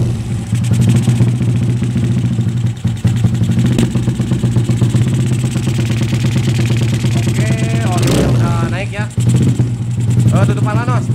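A bored-up Yamaha Jupiter Z 145cc motorcycle engine with a 58.5 mm piston runs loud and close with a continuous rough drone throughout, while people shout over it near the end.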